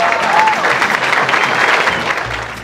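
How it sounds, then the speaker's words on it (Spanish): Crowd applause at a Mexican patriotic festival celebration, a dense burst of clapping that peaks early and gradually tapers off over a few seconds, with some crowd noise mixed in. "Un aplauso, por favor"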